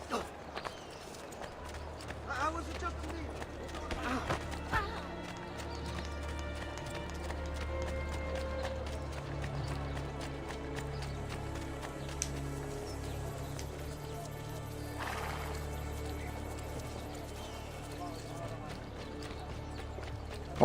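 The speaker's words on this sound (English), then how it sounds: "Horsey." Horse hooves pounding in Assassin's Creed 2, a rapid, rhythmic clatter of galloping under game music and ambient sound, steady throughout with a few sharper accents.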